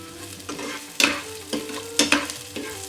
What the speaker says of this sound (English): Just wanna give it a little mix.